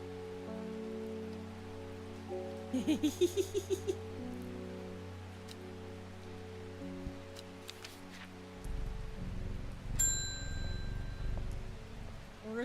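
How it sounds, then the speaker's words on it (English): Soft steady rain patters in the video game Strange Horticulture, set in the rainy town of Undermere, under a sustained musical drone with a quick run of bell-like chimes and a later swell of low rumble. "Does it ever stop raining in Undermere?"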